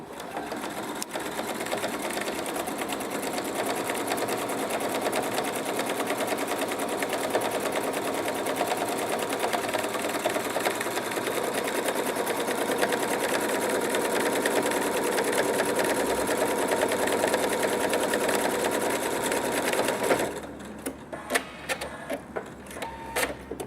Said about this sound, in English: Now to do another buttonhole, you merely reposition, put your presser foot down and go again.